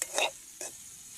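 Chopped banana flower and egg cook in a pan over low heat: two short stirring scrapes, the first one longer, over a faint, soft sizzle.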